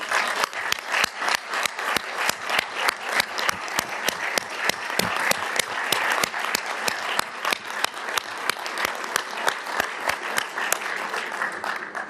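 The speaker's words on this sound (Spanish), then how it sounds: "quiero pedirles a todos un enorme aplauso" A large audience at a political speech applauds continuously, dense clapping sustained throughout with no pause.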